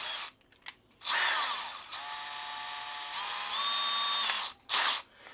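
A cordless drill whirs steadily for several seconds, its pitch shifting as the motor speeds up and slows, with short clicks and pauses before and after.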